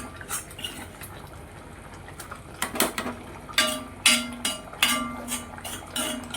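Sautéed onions and tomatoes tipped into cooked prawns in a clay pot for chemmeen theeyal, with a spoon clinking and scraping against the pot in irregular, close knocks that grow busier toward the end.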